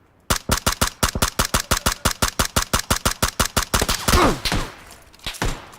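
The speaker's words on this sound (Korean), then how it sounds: "근데 지금 누가 쏘고 있거든?" Rapid automatic gunfire from a battle royale squad match, a steady burst of about two dozen evenly spaced loud shots followed by a few scattered impacts and a final distant crack.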